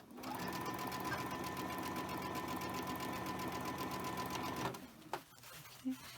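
A sewing machine stitches rapidly through a fabric shopping bag in a steady mechanical whir for several seconds, then stops, followed by a few light handling clicks.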